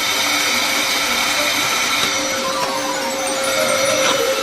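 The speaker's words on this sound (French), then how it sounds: "Un sèche-cheveux ordinaire nous aidera." A household hair dryer runs continuously at a steady, loud whir with an even airy hiss throughout.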